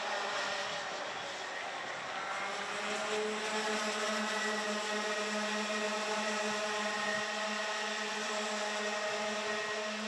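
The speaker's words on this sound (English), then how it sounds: "it is completely full throttle, flat chat from all of these 20 drivers" Racing kart engines at full throttle on the Kerpen track in a senior heat with 20 drivers, forming a dense, continuous high-pitched drone that holds steady and near for the whole stretch.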